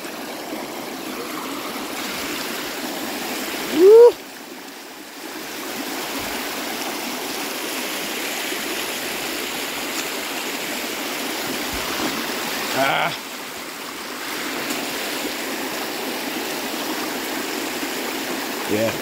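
A steady rush of a cold river flowing around someone wading waist-deep, continuous and close, with a couple of brief splashy disturbances.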